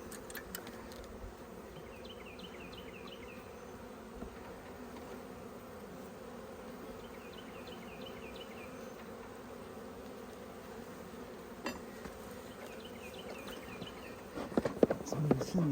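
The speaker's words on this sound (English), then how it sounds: "Let's move these bees." Honeybees buzzing during an open hive inspection, a constant close droning hum of many bees throughout, with small tapping and handling noises near the end and no talking.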